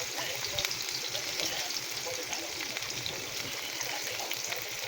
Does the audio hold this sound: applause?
no